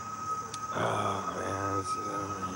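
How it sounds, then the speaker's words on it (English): An ambulance siren sounds steadily, with a vehicle rumble swelling and fading as it moves slowly past. "I feel like I'm running from a slow-moving ambulance"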